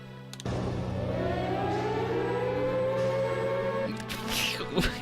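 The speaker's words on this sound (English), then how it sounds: "And then sirens." A siren in Super Robot Wars MX Portable wails continuously, its tone slowly rising and holding over a low hum, ending with a few sharp clicks and clatter.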